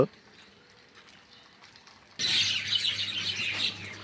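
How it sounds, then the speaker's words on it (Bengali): A flock of birds gathered by Sonapur WAPDA Road, a dense, lively chorus of chirps and twitters that swells in suddenly after a quieter opening with soft background noise. "দেখেন পাখিদের মিলন মেলা"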